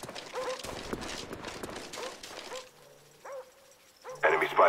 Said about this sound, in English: Dogs incoming.